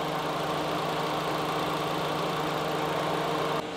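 The 1.5-liter gasoline engine of a 2024 Nissan Livina VL idles steadily with a low, even hum and faint mechanical ticking, constant throughout and free of voices, cutting off abruptly at the end.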